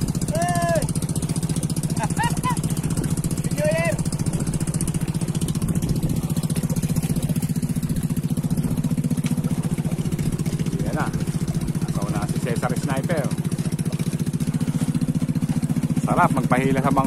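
A small fishing boat is towed along by another boat's motor, a steady, loud chugging engine drone running throughout with a few voices calling out over it.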